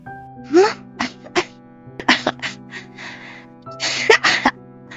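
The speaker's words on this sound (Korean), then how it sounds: "저는 쿨럭쿨럭 기침을 하기 시작했답니다" Several short, harsh coughs and throat-clearing bursts from choking on acrid cigarette smoke come in irregular clusters, close and fairly loud, with brief pauses between them.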